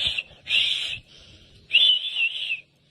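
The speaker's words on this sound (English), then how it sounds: "So, I see people running, I blow the whistle." A shrill whistle blown twice, a short blast then a longer, slightly warbling one, loud and close with no talking.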